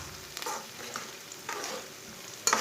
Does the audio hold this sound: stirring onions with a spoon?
yes